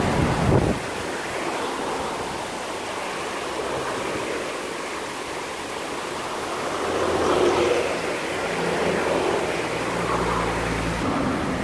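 Water washes continuously along a Caribbean shore near Dunn's River, a broad steady rush that swells slightly midway, with some wind noise on the microphone.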